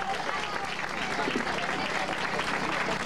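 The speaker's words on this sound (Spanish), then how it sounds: "El aplauso a todos ustedes para ellos." A crowd at the Lima half marathon award ceremony in Peru applauds the winners, steady dense clapping filling the whole stretch, loud and close, with some voices mixed in underneath.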